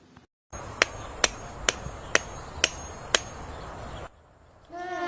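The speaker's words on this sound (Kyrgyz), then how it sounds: "азыр мен буну балка менен жасам" A hammer strikes an object six times in a steady, evenly spaced rhythm, sharp and clear over a low background hiss, followed by a brief tonal chirp at the end.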